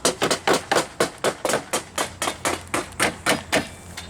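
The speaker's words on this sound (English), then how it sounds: "Let's get a little bit of that hammer action right there." A hammer pounds metal in quick, even blows, about four strikes a second and close, at a historic living-history village workshop.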